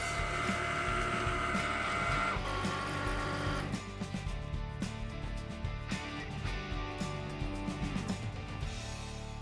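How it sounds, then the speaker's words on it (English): Cricut Maker cutting machine running a test cut, with a steady mechanical whir and rhythmic motor pulses and clicks as the carriage shifts, close and continuous with no talking. "Now it says press the flashing go button on the machine, which obviously is going to be this one because it's flashing. And my computer says cut in progress."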